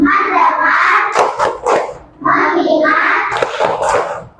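A class of children doing a concentration clapping ice-breaker, chanting together in rhythm with short bursts of group clapping between the chanted phrases, close and lively.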